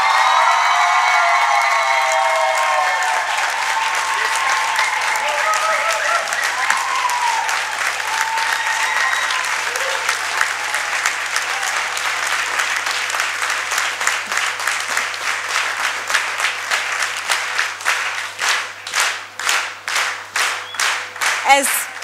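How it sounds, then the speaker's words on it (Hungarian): A theatre audience at a Hungarian student drama festival applauds loudly and continuously, the dense clapping thinning toward the end into sparser, distinct claps. "Szóljon a taps."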